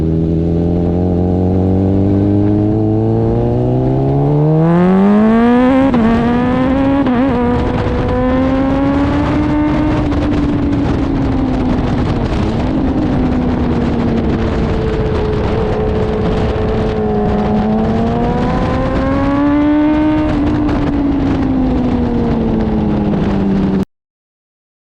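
A motorcycle lapping a race track during a pre-race trackday session, its engine howling loud and continuous as revs climb through gears and dip under braking, with steady wind rush throughout.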